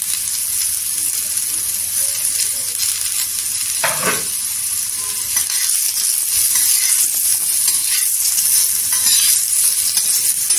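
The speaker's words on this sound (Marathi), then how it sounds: "त्याच्यामध्ये कांदा कट करायचा आणि कांदा भाजून घ्यायचा" About ten to twelve small onions roast on a hot griddle over low heat for a Maharashtrian onion and dry coconut masala paste, sizzling steadily close up while being stirred, with a scraping stroke near the start.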